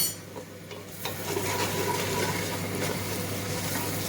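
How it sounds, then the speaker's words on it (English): Spices, coriander powder, garam masala and chili powder, stirred in a hot pan for a chicken and chickpea curry, giving a steady close sizzle and scraping swish that rises after a second and continues without talk. "Give it a nice stir."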